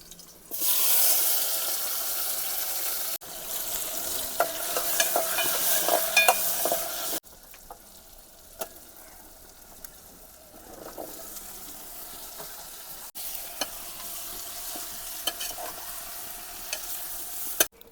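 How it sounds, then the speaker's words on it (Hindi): Wild potato greens stirred and frying in a pan over a fire among jungle rocks, a steady loud sizzle with scraping stirs, broken by a few short pauses, no talk. "दोस्तों महाराज जी की सब्जी सिद्ध हो रही है।"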